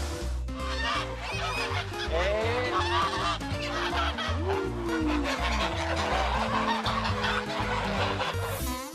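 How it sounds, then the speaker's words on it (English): Geese honk loudly and repeatedly, close by, their calls overlapping in a busy, continuous chorus with other fowl chatter. "They took feed from our hands and were making funny honks."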